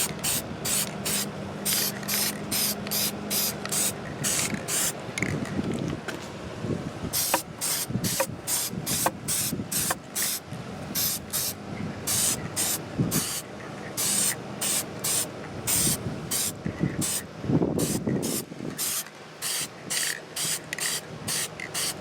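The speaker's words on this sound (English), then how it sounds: "Start spraying the other side here." Short bursts of white spray paint from an aerosol can coat a plaster cast, repeating in a steady hissing rhythm of quick pulses, close and loud, alone.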